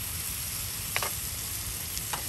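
Meat grilling outdoors at a campsite by Lake Tahoe, a steady close sizzle and hiss over low background rumble, with a couple of brief clicks, no one speaking.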